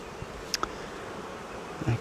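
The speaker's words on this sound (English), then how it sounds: "look how many bees there are in this hive" Honey bees buzz softly in an opened hive, a faint, steady hum with a few brief closer passes, no talking.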